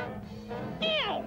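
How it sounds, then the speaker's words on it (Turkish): A cartoon cat gives a single drawn-out meow with a falling pitch, heard close over a steady background hum. "Selim, bunak kedi Selim, benim canım Gargamel"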